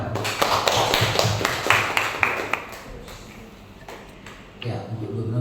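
A school audience at an SMA in Medan gives a short burst of scattered clapping that thins out and fades to quiet, with a few louder claps at the end.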